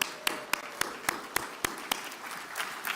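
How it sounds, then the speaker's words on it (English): Scattered applause from an educational leadership summit audience, with a few sharp, spaced claps in a steady rhythm over a soft wash of background clapping, fairly quiet and without talk. "We need an applause on that one."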